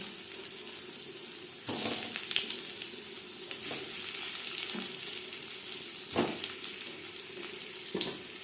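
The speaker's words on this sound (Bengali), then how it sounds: "এবার আমি আলু ভেজে নেব" Peeled, boiled potatoes fry in a pan for potato chicken curry, making a steady, fairly quiet sizzle, a continuous wash of hiss punctuated by a few sharper stirring knocks, with no voices.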